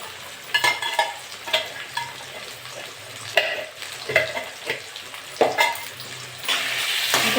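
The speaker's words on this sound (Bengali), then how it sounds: "এটা নেড়ে চেড়ে নেবো।" Ginger-garlic paste frying with prawns, ridge gourd, potato and pumpkin, stirred in a hot pan: a steady sizzle broken by scraping stirs and clinks of the spatula, close and moderately loud, with no talking.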